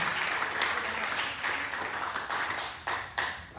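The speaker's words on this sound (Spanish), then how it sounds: "Denle un fuerte aplauso al Rey de la Gloria" Church congregation at a Spanish-language service clapping loudly in praise, steady dense applause with rhythmic surges, close and uninterrupted by talk.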